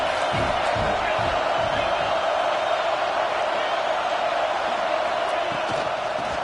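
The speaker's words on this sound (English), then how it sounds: "Comes 2nd down, and this crowd is turning it up a notch." Football stadium crowd roaring steadily during a second-down play, a dense, loud wash of cheering that holds at full level throughout, with scattered thumps and whoops underneath and no clear break.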